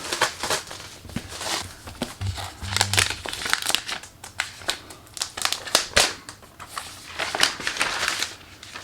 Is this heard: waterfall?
no